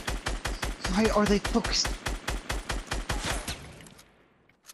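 Rapid, evenly spaced gunfire in Fortnite, a steady burst of roughly twenty shots over several seconds that cuts off near the end, with a player talking over the early shots.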